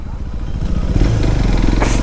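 A KTM RC 390 motorcycle fitted with a loud BS6 bend pipe exhaust rumbles close by, its deep engine note swelling and growing rougher partway through, with a brief sharper burst near the end.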